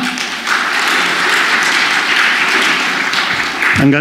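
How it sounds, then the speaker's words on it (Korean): A church congregation bursts into loud, sustained applause for an arriving pastor, dense clapping from many hands filling the room for several seconds. "하나님께 영광의 박수 돌리며 맞겠습니다."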